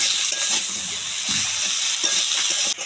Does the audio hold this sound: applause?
no